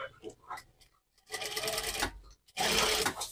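A sewing machine stitches a bag made from leftover fabric, running in three short bursts of rapid whirring with brief pauses between, the last burst loudest.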